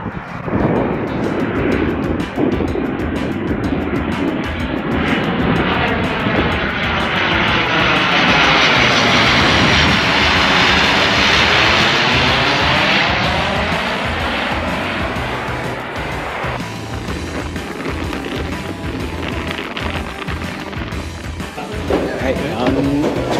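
A Dash 8 turboprop airliner's engines drone loudly and steadily at an airport, swelling to a harmonic-rich whine mid-clip before easing off, with no voices over the noise.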